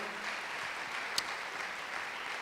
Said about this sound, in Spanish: Demos la ofrenda de palmas al Señor.